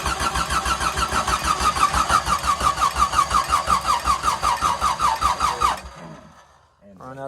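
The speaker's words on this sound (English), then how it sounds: "So Jimmy now is trying to get it to pull fuel from the tank." A Chevrolet S-10 truck with an inline six engine cranks steadily in a rapid, even rhythm for several seconds while it tries to pull fuel from the tank, then stops abruptly, leaving near silence.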